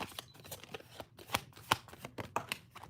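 Tarot cards shuffled close up in a dry, riffling patter with several sharper slaps and riffle bursts over about three seconds, alone without talk.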